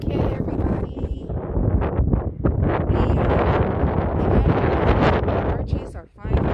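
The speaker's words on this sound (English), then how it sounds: "You can probably hear that wind blaring around me." Strong outdoor wind roars and buffets the microphone continuously in a garden beside a newly installed cattle panel arch, loud and rushing with a brief lull near the end.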